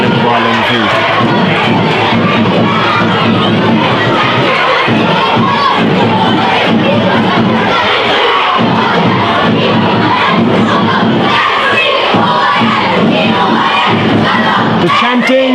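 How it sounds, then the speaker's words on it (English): Loud crowd chanting and cheering at a schools hurling match, a dense continuous roar of young voices with rhythmic shouted chants rising and falling throughout, close and unbroken. "The chanting, the noise, the atmosphere, it's fantastic."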